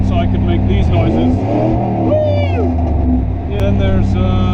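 The engine of a 1991 Firebird with its exhaust sensor removed revs loudly up close, rising and falling in pitch over a steady rumbling idle, with talk heard faintly during the revving.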